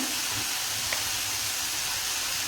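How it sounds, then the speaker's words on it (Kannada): Moth beans frying gently in a pan over a low gas flame, a steady soft sizzle and hiss running evenly throughout with one tiny pop, no voices. "ಗ್ಯಾಸ್ ಸ್ಲಿಮ್ಮಲ್ಲಿಟ್ಟು ಒಂದು 5 ನಿಮಿಷ ನೀವು ಚೆನ್ನಾಗಿ ಫ್ರೈ ಮಾಡಿರಿ."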